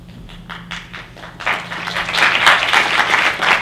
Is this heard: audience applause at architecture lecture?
yes